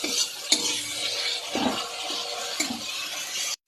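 Spices and coriander powder stirred in a hot pan, a utensil scraping and clinking against the metal over a soft sizzle, close and steady with a few sharper knocks, no talking.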